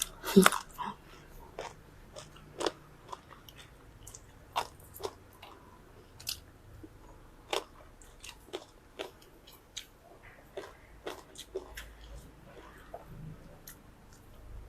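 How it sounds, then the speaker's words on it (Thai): Close, crisp crunching and chewing of raw onions eaten whole with rice, a steady run of bites at irregular intervals in a quiet room, with no talking. "หัวหอมกินทีละหัวไปเลย"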